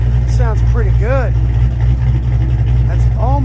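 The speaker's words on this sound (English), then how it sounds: "That's a 900 RPM idle right there." A Ford Mustang engine idles at 900 RPM through custom flow tubes and tailpipes, a deep steady exhaust rumble running loud and close while someone talks over it.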